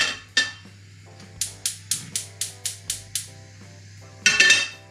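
A pan set down on a kitchen stove, with a sharp metallic clunk followed by a rapid series of light regular clicks and another clattering knock at the end, close by and without speech.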